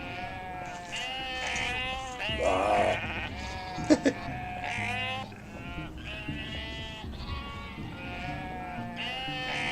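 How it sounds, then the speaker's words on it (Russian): Sheep in a video game bleat again and again, overlapping wavering calls that sit close and loud, with a brief spoken word from a person partway through. "Это долбаные овцы."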